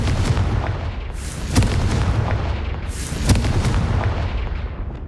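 Blasting spell fired in the Hogwarts Legacy video game, two heavy booming explosions with sharp cracks about two seconds apart over a constant low rumble.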